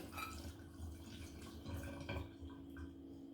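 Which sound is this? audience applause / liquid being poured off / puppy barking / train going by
liquid being poured off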